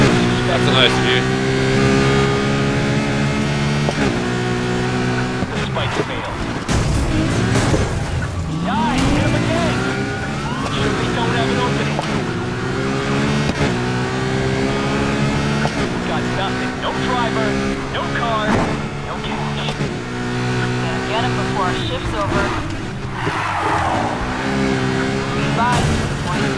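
Car engines race and rev continuously in Need For Speed Heat, with shifting engine pitch and occasional tire noise under steady talk.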